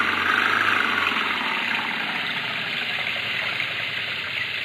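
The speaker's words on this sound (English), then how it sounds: "The French car, they're stuck in the mud. Give it the gun, George" Car stuck in mud in a radio drama sound effect, its engine running with a steady, droning roar and rough vibration, fairly loud and continuous without any voices.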